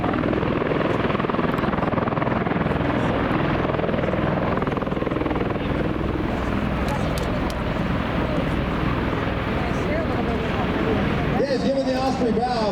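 Powerful rotor roar and buffeting wind from an MV-22 Osprey tiltrotor hovering close overhead, a steady loud wash of air that holds throughout, shifting in tone near the end as the aircraft dips its nose.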